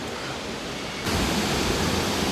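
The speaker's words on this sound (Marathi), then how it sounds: "या डोंगर माथ्यावरून वाहत येणारा हा धबधबा" Dhutpapeshwar waterfall near Rajapur pours down from the hilltop in a steady, broad rush of water, growing louder and fuller partway through, with no voices over it.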